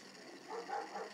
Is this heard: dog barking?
yes